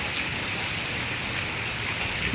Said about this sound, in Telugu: నిన్న నుంచి ఒకటే వాన అసలు తగ్గనన్నా తగ్గట్లేదు